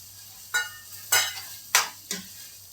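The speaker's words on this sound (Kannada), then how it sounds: "ಏಲಕ್ಕಿ ಪುಡಿ ಹಾಕಿ ಚೆನ್ನಾಗಿ ಮಿಕ್ಸ್ ಮಾಡೋಣ" Carrot halwa stirred in a pan right after cardamom powder goes in: four separate scraping, sizzling strokes about half a second apart, close and fairly loud, with no talking.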